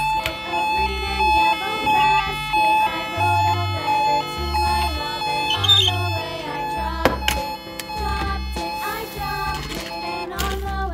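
A toy siren wails in a repeating electronic pattern with tinny beeps and a bouncing melody, loud and close, while voices speak faintly under it.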